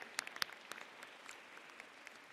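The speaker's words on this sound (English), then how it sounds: "Another round of applause for these guys and families." Applause at a school closing ceremony: sparse, faint clapping from a small crowd, a few sharp claps early and then a light patter fading over about two seconds.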